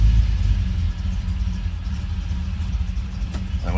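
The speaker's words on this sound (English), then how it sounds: "we'll leave that idling" A Ford Ranchero engine idles steadily nearby, a continuous low rumble with a faint click near the end, no talking.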